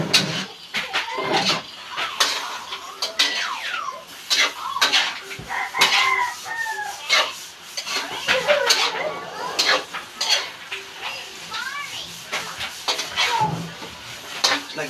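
Liver and gizzards being stirred in a cooking pot, with repeated scraping and clinking of a utensil against metal in an irregular rhythm, close by, while a rooster crows faintly in the background.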